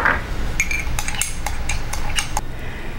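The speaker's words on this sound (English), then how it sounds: "Add 2 tablespoons of sugar and stir." A spoon clinks and scrapes against the sides of a mug while stirring sugar into melted butter, giving a series of irregular metallic taps over a soft background hiss.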